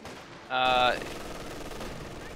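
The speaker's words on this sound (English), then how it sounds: "the HMG team can continue to fire against these penals" An MG42 heavy machine gun team in Company of Heroes 2 fires a short, loud, buzzing burst that stops after half a second, with battle ambience and a commentator talking throughout.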